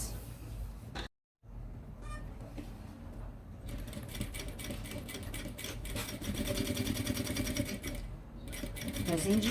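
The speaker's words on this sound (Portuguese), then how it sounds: "E vou passar uma costura nessas duas laterais." A sewing machine stitching the two side seams of a pair of fabric pieces for a Kipling-style pencil case, running in a steady rapid whir with a brief stop and restart, close, with a voice talking over it.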